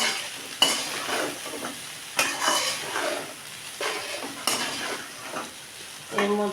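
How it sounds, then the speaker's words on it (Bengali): Chire pulao of flattened rice tossed and mixed in a frying pan, with rhythmic spatula scrapes and clinks against the metal every second or so over a low, constant sizzle. "এগুলা মিশিয়ে নেব।"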